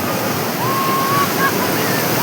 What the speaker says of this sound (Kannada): ನಾನು ಈಗ ಸಮುದ್ರಕ್ಕೆ ಹೋಯ್ತಾ ಇದೀವಿ.